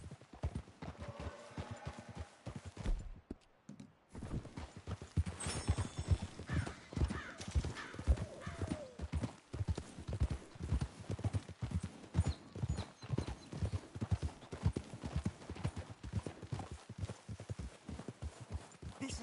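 Horses trot along with steady clip-clopping hooves in the video game Red Dead Redemption 2, a close, continuous rhythmic patter lasting throughout, with a brief gap early on and occasional faint voices beneath.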